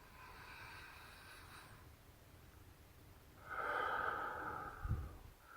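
Deep abdominal breathing during a mindfulness meditation lesson: a long, soft inhale drawn in at moderate closeness, followed by a louder, airier exhale with a brief huff at the end, with no talking.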